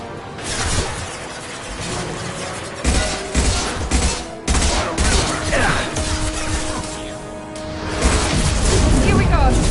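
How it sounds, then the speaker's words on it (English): Concussive shots fired in Mass Effect, loud bursts and impacts in a dense, chaotic firefight, with crashes and booms layered over continuous combat noise and game voices throughout. "Firing concussive shots."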